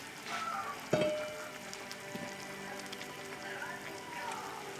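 A pot of pork hock with Great Northern beans heats toward a boil, giving a steady soft bubbling hiss with a single sharper knock near the start.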